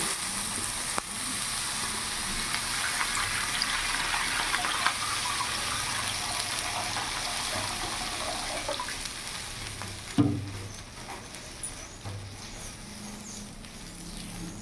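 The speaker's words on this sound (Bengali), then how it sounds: "এখন আমি জল দিয়ে দেবো" Water poured into a pan of fried spice paste for a tangra fish curry, a steady hiss and bubbling with a sudden louder splash and sizzle burst near the end.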